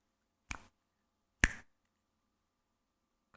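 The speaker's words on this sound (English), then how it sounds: "When I snap my fingers again, clear, just a glance" Two crisp finger snaps about a second apart, close and clean against near silence during a calm meditation session, with a faint third snap starting at the very end.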